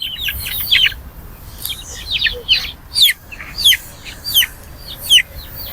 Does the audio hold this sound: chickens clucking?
yes